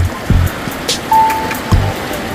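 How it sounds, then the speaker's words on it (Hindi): The clear, cold Yog river runs through a forest in Maharashtra, a steady close rush of flowing water broken by a few soft knocks and splashes. "देखिए पानी कैसा बह रहा है ना"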